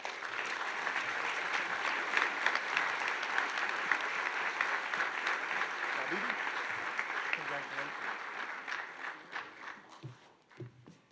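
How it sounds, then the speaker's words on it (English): Sustained applause from a college honors ceremony audience for the recipients, steady and fairly loud throughout before tapering off near the end. "Let's give them all a round of applause"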